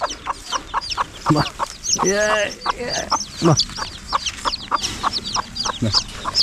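Mostly naked neck chicks peep in quick high chirps close up, joined by a hen's deeper clucks and a drawn-out call, with a voice talking among them.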